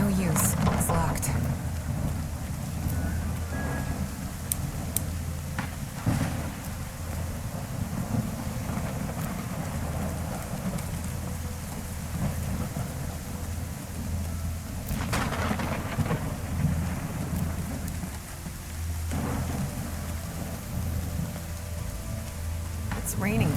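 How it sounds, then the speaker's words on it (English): Heavy rain pours steadily in the Call of the Elder Gods video game, with low rumbling thunder rolling underneath and a few sharper cracks, a dense continuous storm wash throughout. "It's raining cats and dogs here."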